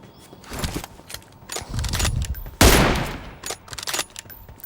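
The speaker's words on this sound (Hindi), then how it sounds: "अब बंदा उतर के मेरे ऊपर फायरिंग करता है, मैं उसे पेल देता हूँ।" Bursts of automatic gunfire and single shots in a PUBG Mobile firefight, close and loud, with a sharp heavy blast near the middle and scattered shots continuing after it.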